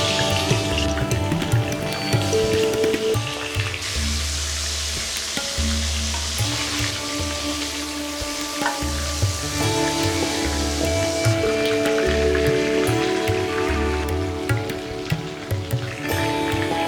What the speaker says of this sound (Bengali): তেল গরম হয়েছে, এবার তাতে ভেজে তুলুন মাছগুলি।